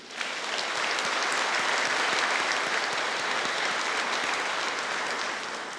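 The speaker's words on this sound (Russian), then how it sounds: "поприветствовать новых почетных граждан нашими еще раз дружными аплодисментами" Steady, full audience applause at a Udmurtia statehood day concert, welcoming new honorary citizens: dense hall-wide clapping rising quickly and holding for several seconds before easing slightly.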